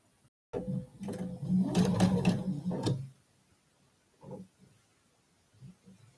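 A sewing machine stitches a quilt block seam in a steady close run of about two and a half seconds, then stops, leaving a few soft handling noises and faint clicks.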